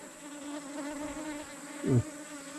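Honeybees buzzing close by, a continuous insect drone with one louder bee sweeping past near the microphone toward the end.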